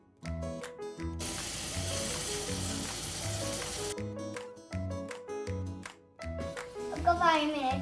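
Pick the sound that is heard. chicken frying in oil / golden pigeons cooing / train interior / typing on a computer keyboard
chicken frying in oil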